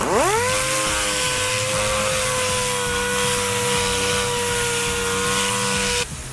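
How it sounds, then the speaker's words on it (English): A power sander levels body filler with 40-grit paper, a loud steady whine that spins up at the start and holds constant before cutting off at the end, alone with no talk. "I'm leveling the filler with 40 grit."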